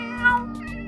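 A single brief cat meow rises and falls over a steady low hum.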